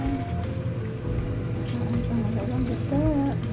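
Coconut milk from two 400 ml cans pours into a cooking pot for crab stewed in coconut milk with eggplant, a steady, thick liquid gurgle and splash running continuously at close range.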